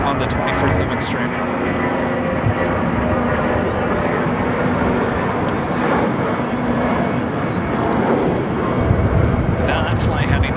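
A United Airlines Airbus A319 bound for Austin rolls or climbs out at Los Angeles International Airport, its steady broad jet roar sustained throughout and swelling slightly near the end, with a voice talking over it.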